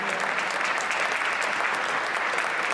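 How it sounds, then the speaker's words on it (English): At an annual school dinner, the audience gives the teachers a sustained round of dense clapping. It stays loud and even from start to finish without speech. "Let's give a round of applause."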